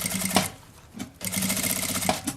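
A sewing machine runs in two quick bursts with a short pause between, stitching bias binding around the curve of a small children's backpack, steady and close with no talking.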